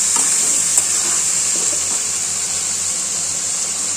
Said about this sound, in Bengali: এবার দিয়ে চিকেনটাকে আমি আস্তে আস্তে কষবো